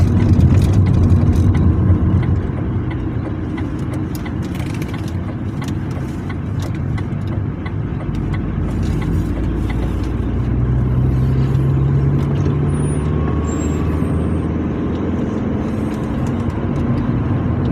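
A car drives along a road out of town, its steady engine drone and tire rumble loud and continuous from inside the cabin, easing slightly for a moment before holding level again.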